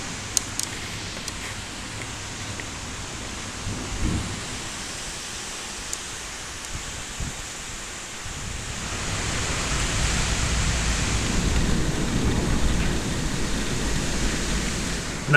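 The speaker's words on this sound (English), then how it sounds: "There's quite a lot of thunder and lightning." Heavy tropical storm rain pours down steadily as a dense hiss, swelling louder partway through, with wind and a low rumble of thunder in the background.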